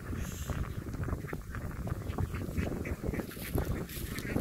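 An enormous flock of roughly twelve thousand ducks crowds a field in Đồng Tháp, Vietnam, making a dense, continuous chatter of overlapping quacks that stays steady and fairly close, with no talking.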